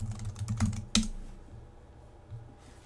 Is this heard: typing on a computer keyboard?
yes